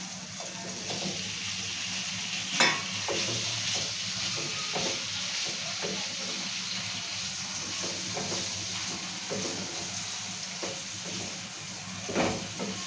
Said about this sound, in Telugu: మిరపకాయలు వేసి ఇట్లా మంచిగా కలుపుకోవాలి